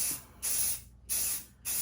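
Rust-Oleum spray paint hisses from an aerosol can onto an old .22 Winchester rifle in three bright bursts of roughly half a second each, separated by short pauses, close and loud.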